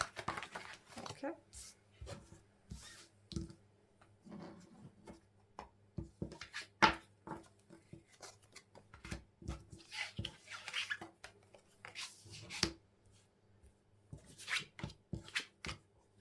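Tarot cards are shuffled during a reading, with crisp riffles, slaps and taps coming in irregular bursts close by and a voice speaking quietly at times.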